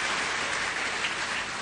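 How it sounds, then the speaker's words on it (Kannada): An audience claps in a steady, dense burst of applause, loud and close, with no voices over it. "ಚಪ್ಪಾಳೆ"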